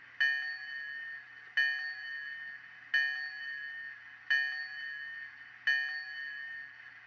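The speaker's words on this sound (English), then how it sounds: "So we'll check the bell" Bell from a Bachmann On30 two-truck Heisler model locomotive's installed sound card, ringing five evenly spaced bright metallic strikes, each decaying into a sustained ring, clear and alone with no talk.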